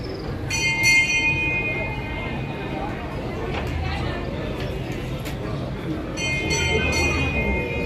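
Bells ring at the Unjha Umiya Mataji temple ahead of the aarti, with bright metallic strikes in a few clusters over a busy, murmuring crowd and background noise.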